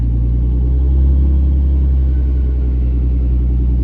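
A truck with a zero rail pressure fault idles and pulls away in first gear, its engine holding a deep, loud, steady rumble with little change in pitch, heard close with no talking.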